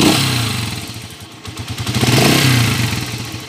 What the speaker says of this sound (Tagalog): Papandarin muna natin to mga bro para marinig natin yung andar ng makina niya